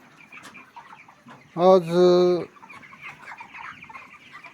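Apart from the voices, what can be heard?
broiler chickens clucking in a poultry shed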